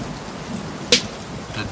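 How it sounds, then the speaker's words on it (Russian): Steady rainfall gives a soft, even hiss throughout, broken by one brief sharp crack near the middle; no voices are heard. "Когда идет дождь."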